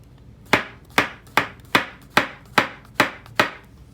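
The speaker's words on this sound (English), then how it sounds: "we'll slice it very thinly" A knife slices a mushroom very thinly on a cutting board in a teaching kitchen, eight crisp, evenly spaced chops ringing out close and clear with nothing else heard.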